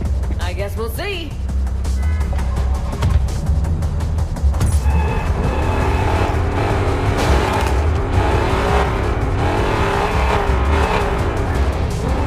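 A car is driven in the video game Gangstar Mirage City, its engine drone and revving steady and loud throughout, mixed with game effects while people talk over it.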